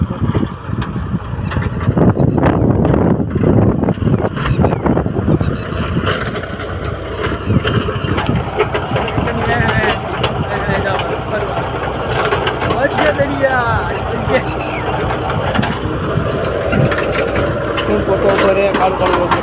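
A tractor pulling a rotavator runs continuously with a loud, steady engine drone and rattling from the field work, while people talk intermittently over it.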